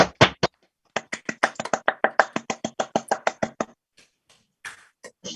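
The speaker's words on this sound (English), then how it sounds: "offer our 4 speakers a round of applause" Hands clap for four speakers at an online conference stream, a close, crisp run of about twenty evenly spaced claps from one or two people that stops abruptly, followed by a couple of faint taps.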